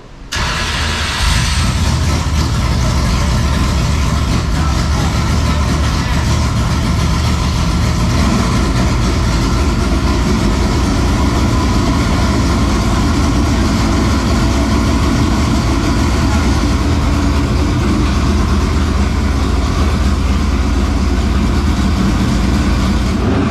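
A late model race car engine cranks over and catches, then runs loud and steady with a deep low rumble throughout, close by and alone.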